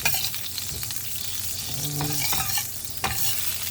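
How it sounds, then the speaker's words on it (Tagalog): Butter sizzles steadily in a frying pan for a garlic squid dish, a continuous crackling hiss with a few brief scraping stirs and no voices. "naglagay na tayo ng butter sa ating kawali"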